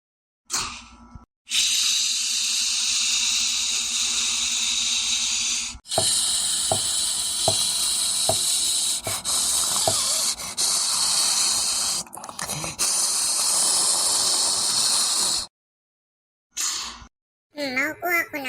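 A hotdog and a sunny side up egg fry in a pan, giving a steady loud sizzle and hiss with brief pauses and a few faint clicks.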